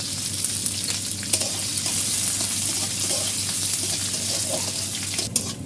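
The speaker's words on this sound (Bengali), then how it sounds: "এখানে রান্না করা হচ্ছে, পেঁয়াজগুলো লাল করে ভেজে নেওয়া হচ্ছে।" Onions fry until reddened in a pan on a wood-fired stove, a dense, continuous sizzle with occasional stirring scrapes close by.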